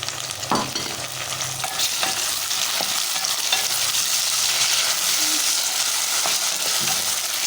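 Chopped tomatoes fry in a hot pan with steady, close sizzling while a spoon stirs them, scraping the pan with a few sharp clacks; no talking.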